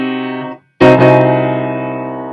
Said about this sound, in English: it's called diminished, and it sounds like this.